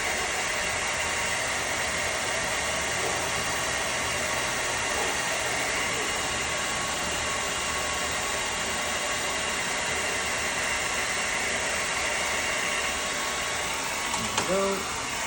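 A blow dryer runs steadily at close range, drying freshly painted items, a loud continuous airy roar that holds unchanged for about fifteen seconds before a few small handling noises near the end.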